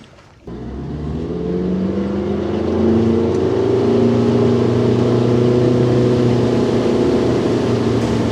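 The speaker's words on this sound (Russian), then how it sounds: "мотор у нас на обкатке, поэтому деликатно идем" A boat outboard motor in its break-in period runs at a gentle, even pace after starting up abruptly, its steady drone loud and close throughout with no talking.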